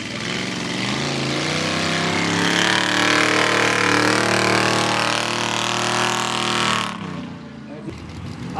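A mud drag racing vehicle revs hard at an outdoor mud drag event, a loud sustained roaring engine note that swells and then drops away abruptly near the end.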